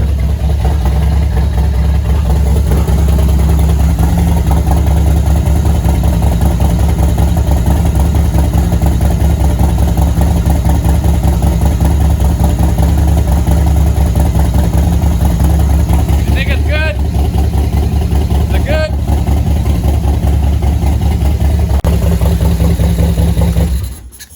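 A Harley-Davidson motorcycle engine runs steadily and loudly for the whole stretch, a dense rumbling idle that continues unchanged until it cuts out at the very end.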